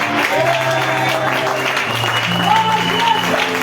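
A church congregation applauds and cheers in praise during a New Year's Eve crossover night service, steady clapping throughout with voices calling out over it.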